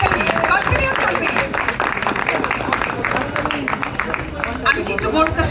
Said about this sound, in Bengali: আরো জোরে, কন্টিনিউ চলবে হাততালি, কন্টিনিউ চলবে।